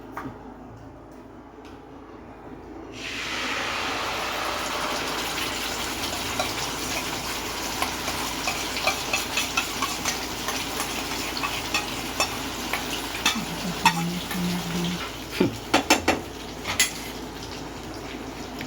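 Loud, steady sizzling and frying starts abruptly as gravy goes into a pan for paneer curry, continuing throughout, with occasional stirring clinks and scrapes near the end.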